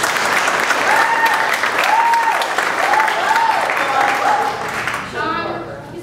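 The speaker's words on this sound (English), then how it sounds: "Let's give him a round of applause." A comedy club crowd claps and cheers steadily for several seconds, with a few whoops rising above the applause before it fades.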